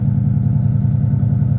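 A car engine idling close by, likely a Ford Mustang with a Coyote V8, giving a loud, steady low rumble with an even pulsing beat and no talk.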